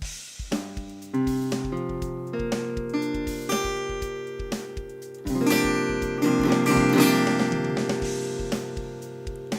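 A guitar barre chord is picked one string at a time, each note ringing clearly and overlapping the last in a slow, even sequence, close and solo.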